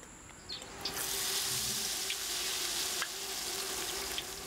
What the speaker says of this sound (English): The tempura flowers are cooked in 180 degree oil.